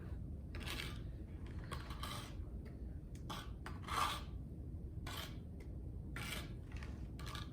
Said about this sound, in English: I definitely like to do this layer with my scraping tool because the grog is like not so delicious on my hands